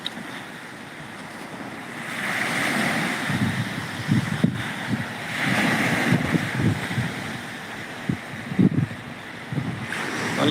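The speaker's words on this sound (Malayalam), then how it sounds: "നല്ല സൂപ്പർ ബീച്ചാണ്. മാൽദീവ്സാണിത്." Waves wash steadily onto a beach in the Maldives, a broad surf roar that swells and recedes, with wind buffeting the microphone and sharp gusty bursts throughout.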